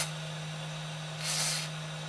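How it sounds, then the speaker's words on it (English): Switch cleaner sprayed from an aerosol can down into the mechanism of a Hacker Centurion record player, a short burst of hiss lasting under half a second over a steady mains hum. "I'll spray a little bit of switch cleaner down it"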